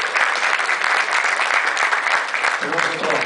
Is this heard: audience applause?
yes